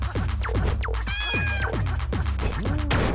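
A cat in the video game LISA meows repeatedly in quick, loud yowls over a constant low hum, about a dozen short cries tumbling over one another in a rapid, caterwauling series.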